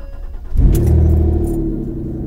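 A Ford SUV engine with its exhaust removed fires up abruptly and settles into a loud, deep, raw rumble that holds steady close by.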